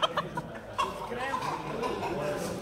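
Chickens, crested breeds, clucking at a small-animal show in Noordwolde, Friesland; a few short clucks near the start rise over steady crowd chatter and nearby conversation.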